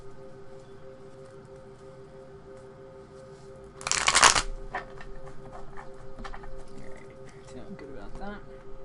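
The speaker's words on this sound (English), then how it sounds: "the deck that I'm about to start shuffling" A John Holland tarot deck is shuffled, giving a brief loud riffle of cards mid-clip amid soft handling noises and a constant electrical hum.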